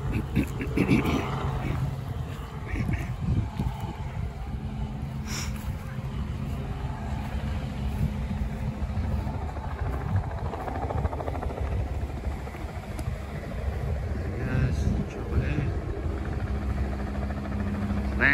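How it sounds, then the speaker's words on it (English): Helicopter arriving to land on Punsand Bay beach at Cape York, a steady rumbling rotor and engine drone, moderately close and continuous, with occasional talking over it. "There's a chopper here taking people from wherever."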